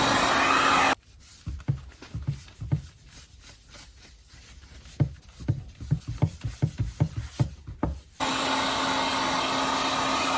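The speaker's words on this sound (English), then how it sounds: "I like to come in here with the heat gun, give this leather a nice heating" A heat gun blows a steady, loud roar while heating leather for a belt case, cutting off for several seconds of rhythmic rubbing thumps and bumps before the blower starts again.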